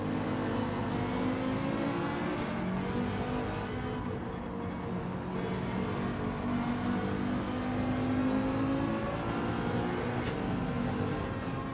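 Race cars in the Gran Turismo Manu cup at Grand Valley drone on steadily, engine whine holding a continuous loud mix throughout with no talking.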